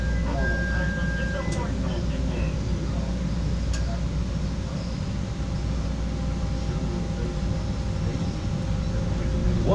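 A CTA Green Line Bombardier 2009-15 railcar riding along, a steady loud rumble of wheels and motor with a constant hum and occasional squeal, continuous throughout.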